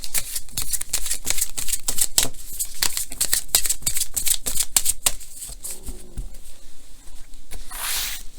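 Tarot cards are shuffled in quick, crisp riffling bursts, close and fairly loud, with a rhythmic series of sharp flicks followed by a softer rustle near the end and no talk.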